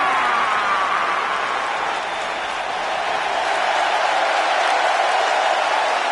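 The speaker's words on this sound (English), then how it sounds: "Clap for your longest reigning tag champs and feel the power." A large arena crowd at a live WWE SummerSlam wrestling event applauds and roars as one continuous, loud, steady wash of noise for about six seconds.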